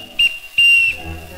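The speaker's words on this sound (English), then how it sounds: "I blow the whistle that tweets." Two short, bright tweets from a small whistle, the second held longer than the first, stand out close and loud over quiet music.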